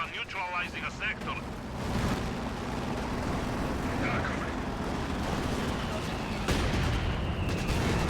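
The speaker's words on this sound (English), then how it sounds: "The mortar's doing some nice barrage onto the Dishka" Mortar shells from a barrage in Company of Heroes 2 pound a target with a sustained rumbling roll of explosions, preceded by brief tonal game sounds and a sharp blast near the end.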